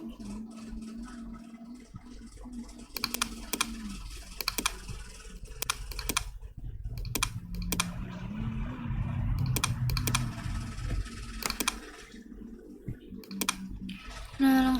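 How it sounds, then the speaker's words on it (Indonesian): Keystrokes on a computer keyboard as data is typed into IBM SPSS, coming in quick irregular bursts of clicks with pauses between them, close by against faint background noise. "langsung saja kita masukkan data seperti yang ada di soal"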